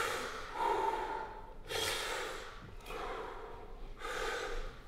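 Slow, deep breaths drawn in and pushed out while holding a low squat stretch, four long airy inhales and exhales in a steady rhythm, close and fairly loud with no talking.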